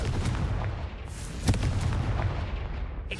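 Confringo blasting-spell explosions in the Hogwarts Legacy video game sound as low rumbling booms with a sharp crack partway through, loud and close amid continuous game noise.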